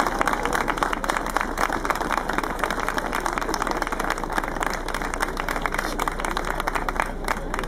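An audience claps steadily for a conductor and his choir at a Christmas Eve singers' gathering, a dense, even patter of many hands sustained throughout at moderate distance.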